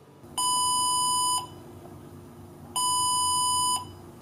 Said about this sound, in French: on aura une autre alarme sonore